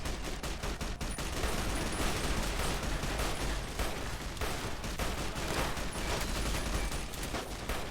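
Dense, continuous gunfire in the video game Fallout: New Vegas, a loud, unbroken barrage of overlapping shots filling the whole stretch with no voices.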